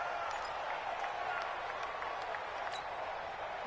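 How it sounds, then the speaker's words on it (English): Steady crowd roar filling a domed stadium in a PS4 American football video game, a continuous loud wash of noise with faint whistle-like accents throughout. "The crowd here in the Dome making things difficult."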